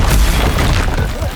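Confringo spell explosion in Hogwarts Legacy: a loud, close, rumbling boom with a deep low-end burst that rolls and fades over about a second and a half.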